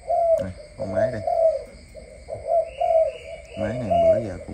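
An imported pigeon cooing close by in repeated deep, rolling phrases with short pauses between, faint chirps in the background.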